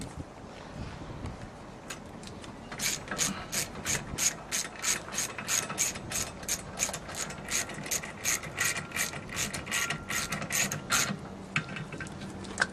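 Rapid ratchet clicks from a wrench tightening the bolt on a boat propeller, a steady run of close, loud ticks repeating for about ten seconds.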